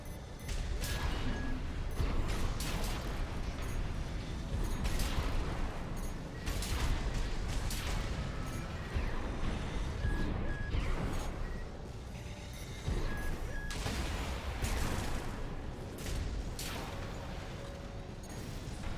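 Needle launchers fire repeatedly in Armored Core VI, with dense mechanical bursts and impacts over a loud, continuous rumble of combat across the whole stretch.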